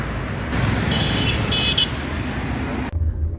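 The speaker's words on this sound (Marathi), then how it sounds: "हे बघा मॉर्निंगचं ट्रॅफिक" Busy morning road traffic, heard from inside a Tata Nexon, with engine rumble and a short burst of honking horns midway, ending in a low idling hum.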